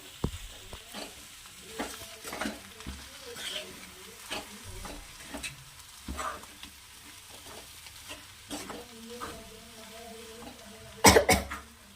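Tur dal and fresh methi bhaji being stirred in a pan, heard as soft scraping and shuffling strokes with a faint sizzle, fairly quiet and close, with a sharp cough near the end.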